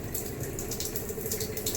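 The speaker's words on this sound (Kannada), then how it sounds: "ನೀರು ಆನ್ ಮಾಡ್ತೀನಿ" Water runs from a kitchen sink tap fitted with an LX1 Platinum series water filter, a steady close rushing stream with no talk.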